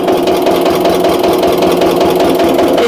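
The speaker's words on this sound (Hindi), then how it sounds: "देखिए बहुत ही पावरफुल इंजन है, एकदम अपने आप इधर उधर सड़क रहा है और बहुत ही बेहतरीन स्टार्टिंग है इसकी" Eicher 12-22 hp diesel engine running steadily at idle, a loud, close, rapid knocking thrum that carries on evenly without any voices.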